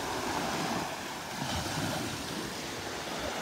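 Small waves wash onto the sand at Delnor-Wiggins beach in a steady, close surf hiss, with wind buffeting the microphone and no voices.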